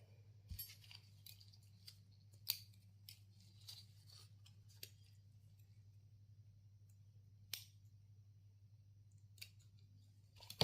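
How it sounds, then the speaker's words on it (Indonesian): Scissors snip thread or material in a craft or sewing task, a handful of sharp, isolated clicks spaced irregularly over a low steady hum, faint and close. "Kemudian kita akan gunting ini terlebih dahulu."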